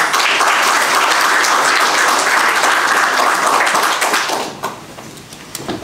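Dense audience applause fills a demo day event for veteran-owned small businesses, loud and steady for several seconds before thinning out near the end.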